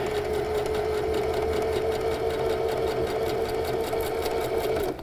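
A sewing machine runs continuously at a steady fast whir while stitching a fabric bat treat bag, close and constant before stopping abruptly at the end.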